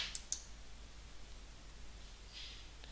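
Two quick, sharp computer mouse clicks close together near the start, then a third faint click later, against a quiet hiss.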